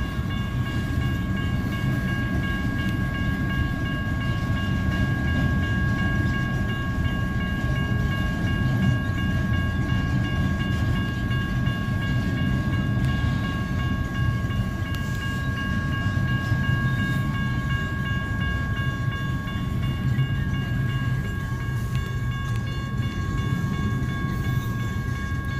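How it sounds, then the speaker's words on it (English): A long BNSF trailer train led by warbonnet-painted locomotive 4703 rumbles past a Baker Street crossing, with a steady roar of wheels and engine under sustained bright crossing-bell or horn tones, loud and continuous with no talking. "This one right here is a BNSF train."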